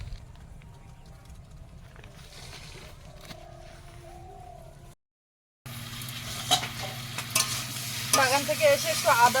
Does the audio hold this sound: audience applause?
no